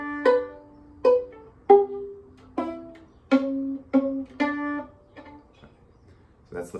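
Plucked viola pizzicato notes play the opening measure of a song, about nine resonant plucks in a halting rhythm, each ringing briefly and fading, close and clear with no talk over them.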